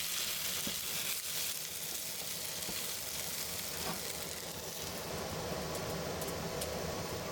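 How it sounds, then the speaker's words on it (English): Eggplant pieces stir-frying in an oiled pan, a steady dense sizzle with faint stirring scrapes running throughout, close and fairly loud, no voices. "Adding eggplant pieces. Stir fry until they turn a little golden brown."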